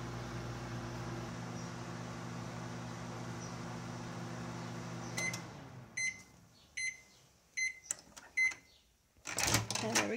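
A Ruby sterilizer hums steadily for several seconds, then goes quiet and gives a series of short electronic beeps in small groups, close by and fairly faint.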